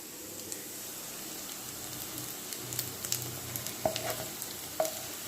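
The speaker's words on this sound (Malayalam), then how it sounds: "ഫ്രൈ ചെയ്തെടുക്കാം നമുക്കിതിങ്ങനെ മറിച്ചിട്ട് കൊടുക്കാം" Poha cutlets fry in hot oil with a steady, close sizzle and crackle, and a couple of sharper pops and spatters come as they are turned over.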